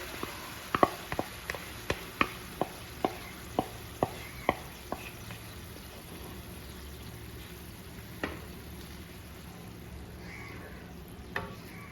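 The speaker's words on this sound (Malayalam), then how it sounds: "ശർക്കരപ്പാനി നന്നായിട്ട് തിളച്ചിട്ടുണ്ട്." Jaggery syrup boiling in a pan for a Kerala-style wheat ball snack, heard as a quick run of sharp pops and ticks over a low steady hiss, then only a few scattered pops later on.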